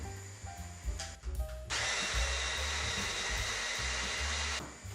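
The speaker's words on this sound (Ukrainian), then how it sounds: "В Блендер викладаю цибулю з морквою" Some clattering, then a blender chopping onion and carrot whirs to life and runs with a steady loud roar for a few seconds before winding down.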